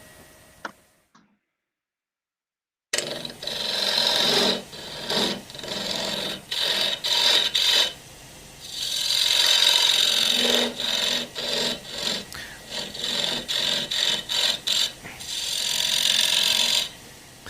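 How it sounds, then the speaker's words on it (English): A multi-purpose turning tool cuts a mounted double-sided wooden medallion on a lathe, producing loud, rasping bursts of cutting that start and stop repeatedly after a brief quiet opening, with no talking. "So the multi-purpose tool does a fantastic job of getting a nice smooth bottom there."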